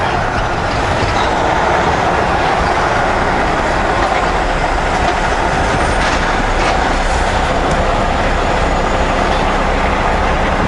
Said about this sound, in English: train's just crawling along.